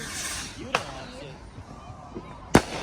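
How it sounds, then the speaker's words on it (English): Distant consumer fireworks bursting at a big private backyard show, two or three sharp booms spaced over a few seconds, the loudest near the end, with faint chatter and crackle in between. "look at all these fireworks"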